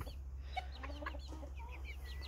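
Chickens and a rooster cluck inside a henhouse, a close mix of short clucks and murmuring calls over a low steady hum, with no talking.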